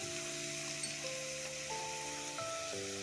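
Vegetables for vegetable rice frying with turmeric in a pan, a steady soft sizzle running the whole time beneath sustained musical tones.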